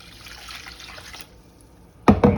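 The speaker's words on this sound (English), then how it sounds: "Put my water in there." Water poured into a cooking pot while making grits, a short, loud splashing burst near the end after a quieter stretch of faint kitchen noise.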